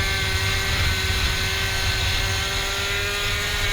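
A moped engine in the MopedGP racing game holds a steady high-rev drone, around 12,500 to 13,000 RPM, loud and continuous along a straight, with no speech over it.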